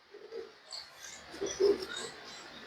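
Teddy pigeons coo softly in a short, faint run of low murmuring calls, with light chirps and rustle around them and no speech.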